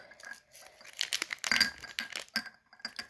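A slime-covered shot glass is set down with small glassy clinks and soft sticky, squelching crinkles, a few close, light taps scattered over three seconds.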